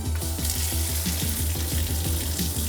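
Cold water runs from an RV shower tap after a night at -4 degrees, a steady close hiss of spray with a low rhythmic pulsing underneath throughout.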